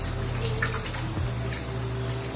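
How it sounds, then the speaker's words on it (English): Hands being washed under a running tap give a steady close splashing water rush with small shifts in flow, continuous through the moment without any talk. "So y'all know how I say wash your hands first."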